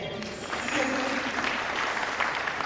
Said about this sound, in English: Let me just clap for Kenya